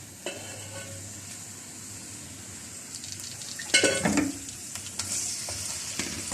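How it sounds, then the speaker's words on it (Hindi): Half a kilo of mutton frying in a little oil in a karahi for Peshawari mutton karahi, a low steady sizzle with a burst of louder stirring and metal scraping midway. "इसको हमने बस फ्राई करना है पहले"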